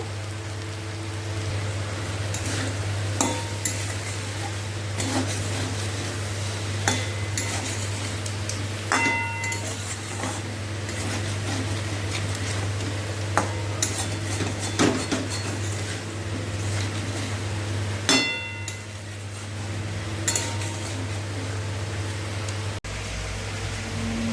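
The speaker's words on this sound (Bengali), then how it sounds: "এবার স্বাদ মতো লবণ দিয়ে দেব, দিয়ে ভালো করে কষিয়ে নেব।" Curry stir-fried with salt in a pan gives a steady rain-like sizzle over a constant low hum, with scattered sharp clicks and light scrapes of utensil on metal and no voices.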